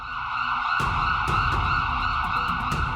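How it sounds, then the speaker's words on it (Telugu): An ambulance siren wails steadily at close range, its two-tone pitch holding strong throughout, with some vehicle and street rumble underneath and no talking. "అంబులెన్స్ వచ్చిందా?"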